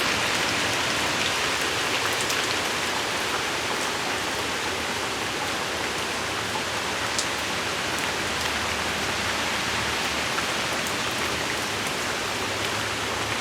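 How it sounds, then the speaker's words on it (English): Steady, dense rainfall from Hurricane Laura in Arkansas hissing continuously on surfaces, with occasional heavier drips standing out from the constant wash. "Getting kind of rainy."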